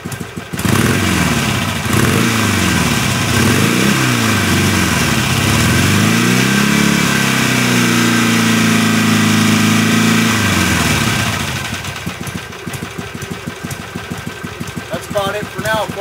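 Harley-Davidson Sportster with stock exhaust, idling in a low steady thump, then revving up and easing back down in a couple of swells before settling; the engine is loud and close, and someone talks over it.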